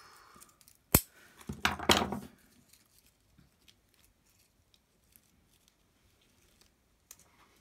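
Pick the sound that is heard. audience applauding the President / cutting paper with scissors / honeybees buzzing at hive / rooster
cutting paper with scissors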